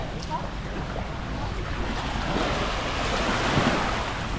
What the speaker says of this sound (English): The big waves just coming.